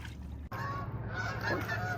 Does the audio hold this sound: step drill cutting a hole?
no